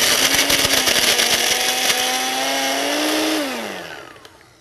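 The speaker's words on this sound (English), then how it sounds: "So let's try crushing some ice." A Cuisinart compact portable blender crushes ice with a loud, rattling motor whine that holds steady for a few seconds, then drops in pitch and winds down to silence.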